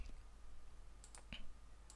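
A computer mouse button clicked while working in Maya software, giving a few faint, sharp clicks spaced through a quiet background.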